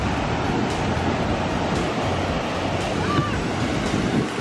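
Ocean waves roll onto a California beach in a steady, close wash of surf, with gusty wind buffeting the microphone throughout.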